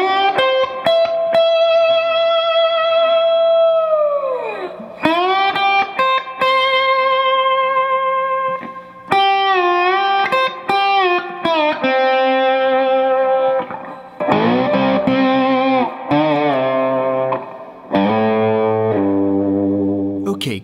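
A 1993 Gibson Les Paul electric guitar plays a song's solo slowly, with sustained bent notes and sliding phrases through a driven, effected tone, up close and alone.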